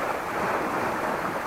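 Ocean surf rushes in a steady, dense roar with no distinct breaks, mixed with some wind buffeting; no voices are heard.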